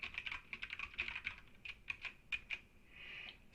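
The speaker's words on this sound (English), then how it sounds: "and I can never type." Rapid typing on a computer keyboard, a close, steady run of light clicks with brief pauses and no talk.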